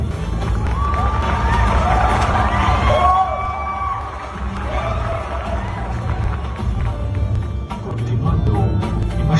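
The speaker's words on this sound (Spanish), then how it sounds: "Un aplauso, por favor." A cosplay stage audience claps and cheers in a lively crowd roar, with shouts and whistles rising over the noise, dipping midway and swelling again near the end.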